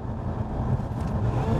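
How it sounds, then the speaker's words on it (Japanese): A Lotus Emira sports car engine roars steadily from inside the cabin as it is blipped during a heel-and-toe downshift, a dense low rumble with a brief rise in pitch near the middle. "今シフトダウンするんでちょっとヒールアンドトーで煽ったんですけど、とてもいい音がします。"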